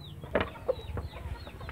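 Sindhi Aseel roosters and hens in a breeding setup in Khairpur, Sindh, give a few short, soft clucks against a quiet, low background.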